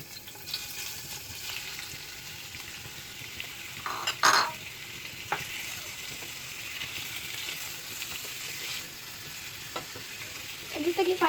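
Chicken pieces frying in a pan for a fajita pizza give off a continuous close sizzle, with stirring scrapes and a few sharper clinks of a utensil against the pan.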